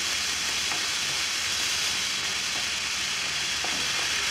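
Kangaroo meat fries in a pan with a steady, close hiss of sizzling fat, unbroken and even throughout, with a few faint clinks in the background.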